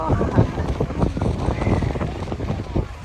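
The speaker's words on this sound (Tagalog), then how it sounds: "Ayun, yun ang hangin." Gusty wind buffets the microphone in a continuous low roar, with faint voices mixed in underneath, at a kite festival in Qatar.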